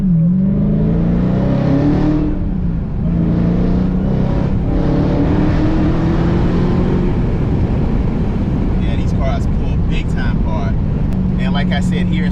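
A 2020 Dodge Charger Daytona Hellcat Widebody accelerates hard in sport mode, its loud engine droning and rising through the gears from inside the cabin while someone talks over it.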